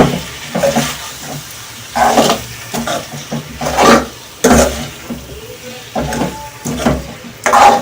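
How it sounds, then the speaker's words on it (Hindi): Masala fries in a pan while being stirred for an aloo palak dish, with repeated loud scraping and sizzling bursts about once a second, close by, between quieter moments. "मेरा मसाला भून चुका है।"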